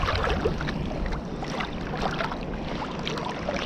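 Wind buffeting a microphone while riding a bicycle into a headwind near Canning Bridge, a loud, continuous, rumbling gusty roar with slight surges, and no speech.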